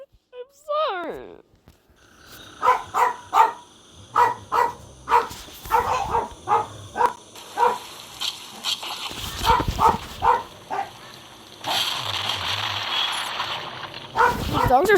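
Several dogs bark in a rapid, repeated series of loud, close yaps lasting much of the stretch, with a person speaking around them.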